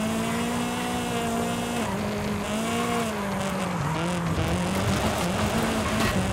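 A Toyota AE86 built as an Initial D replica revs and accelerates in Forza Horizon 5, its engine note climbing and dipping through gear changes, loud and continuous with faint tire noise.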